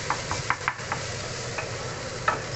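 Pork frying in a pan for a sayote dish, a steady close sizzle with scattered sharp pops and crackles, no talking.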